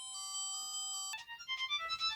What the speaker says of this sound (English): So you got a few ringtones.